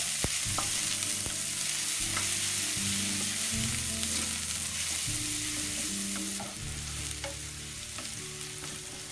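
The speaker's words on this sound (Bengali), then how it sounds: "পেঁয়াজ কুচি এবং রসুন কুচি দিয়ে কিছুক্ষণ ভাজতে হবে" Chopped onion and garlic frying in oil in a frying pan for a red spinach dish, a loud continuous sizzle with stirring scrapes throughout, alone with no talking.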